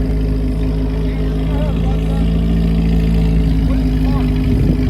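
A Corvette C8 Z06 with AWE high-flow cats rumbles steadily at idle with a deep, throaty exhaust drone, close and constant throughout.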